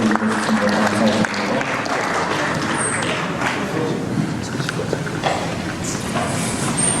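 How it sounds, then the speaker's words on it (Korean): An audience at a church pension members' general assembly claps for the outgoing president, dense steady applause with some background talk mixed in. "박수 한번 쳐주시고"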